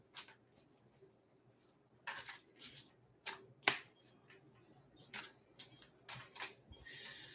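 Tarot cards being shuffled and drawn from a deck, heard as a series of crisp, close riffling bursts and soft slaps in an irregular rhythm, separated by quiet gaps.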